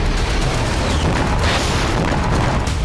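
Heavy, dense explosions from Hezbollah attacks on Israel, a continuous loud rumbling roar of booms and blasts with no pause and no voices.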